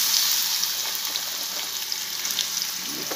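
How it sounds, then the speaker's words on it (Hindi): Thin banana slices frying in oil in a pan, a close, steady bubbling sizzle with light crackles throughout, no talking. "ये तले जा रहे हैं इसमें"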